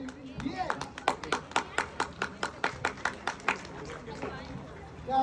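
Steady rhythmic clapping from an audience at a rock band party event, about a dozen even claps in a row, with crowd murmur underneath and a swell at the end.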